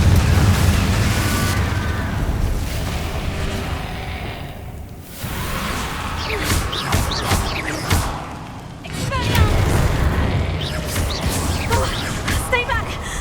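Repeated Confringo fire-blast spells in Hogwarts Legacy, booming explosive bursts and whooshes piling up loud and dense, with occasional voices underneath.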